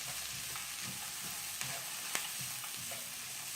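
Potatoes and poha cooking in a pan, a steady soft sizzle with occasional light stirring clinks and scrapes, close and continuous with no voices.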